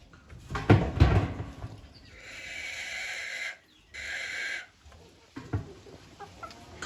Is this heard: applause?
no